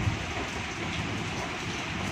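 Steady rain falls continuously in an outdoor setting, a dense, even hiss of drops with no breaks and no distinct thunder.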